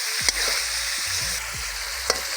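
Large pieces of Kadaknath chicken sizzling steadily in hot oil, a close, even frying hiss with a few soft clicks from stirring and no voices.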